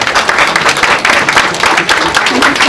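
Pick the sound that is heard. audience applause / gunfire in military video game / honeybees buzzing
audience applause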